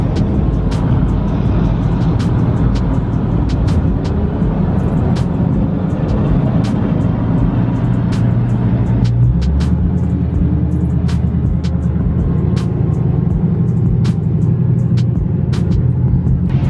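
A carbon fiber widebody Dodge Hellcat at a speedway, its loud engine droning steadily with a high whine layered over a deep rumble, close by and sustained, the pitch shifting lower partway through.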